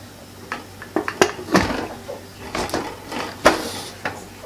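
A metal pressure cooker lid is fitted and closed over boiling vegetable biryani, giving a string of close clanks, taps and scrapes of metal against metal, irregular and moderately loud.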